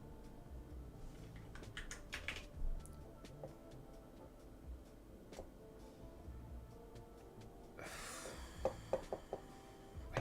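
Typing on a computer keyboard, faint scattered key clicks in irregular bursts with a louder flurry of taps near the end, quiet and unaccompanied.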